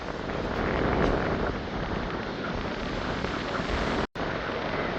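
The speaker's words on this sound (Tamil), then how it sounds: "காற்று வீசி கொண்டு மழை வந்து இப்போ பெய்ய தொடங்கிட்டு பாருங்க" Strong storm wind roars by the sea in Jaffna as rain comes down, a constant heavy rush buffeting the microphone with surf-like noise and a brief cut-out near the end.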